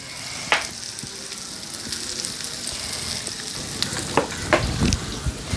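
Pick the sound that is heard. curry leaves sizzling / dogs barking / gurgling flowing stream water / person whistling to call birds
curry leaves sizzling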